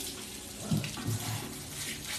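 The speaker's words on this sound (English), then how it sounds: "let me rinse this off" A kitchen tap running as beans are rinsed: a quiet, steady stream of water with a few louder splashes, nearby and with no talking.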